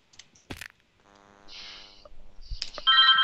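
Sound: telephone ringing

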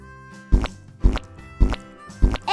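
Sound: hammer hammering a peanut butter sandwich shut

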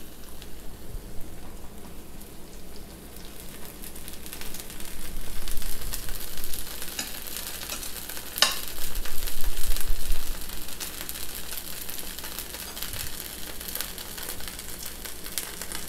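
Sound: rava dosa frying on a pan with oil

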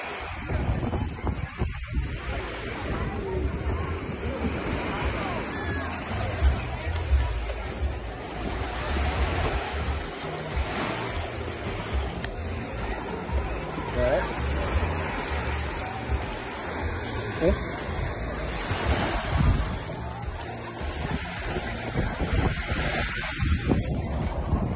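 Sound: ocean waves at the beach

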